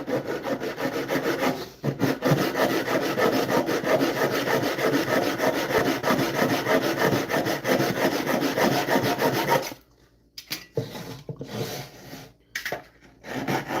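Purpleheart splines being sawn flush on yellow cedar boxes, a continuous rhythmic rasp of back-and-forth hand sawing, close and loud, pausing briefly near the start and breaking into shorter strokes toward the end.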